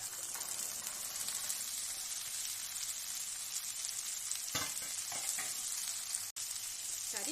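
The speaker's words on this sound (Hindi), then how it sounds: "अब इसमें कटे हुए आलू और ये जो फली हमने काट के रखी है इसे डाल देंगे।" Cut potatoes and cluster beans hitting hot oil in a pan, setting off a steady bright sizzle and frying hiss with a few brief stirring scrapes, close and alone.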